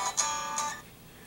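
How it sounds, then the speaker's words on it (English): A mobile phone rings during a geometry lesson, giving a short, bright electronic chime of a couple of pulses that fades out within a second. "Hold on, that's my phone."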